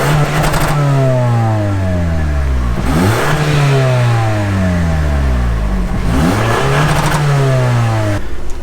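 Stock exhaust on a 2019 Toyota Camry XSE 2.5L revs up three times nearby, each rise loud and sustained before dropping back to idle, with no talking over it.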